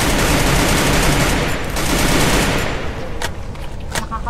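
Rapid gunfire from a shooting video game plays loud and continuous, with bursts of automatic fire that thin out toward the end.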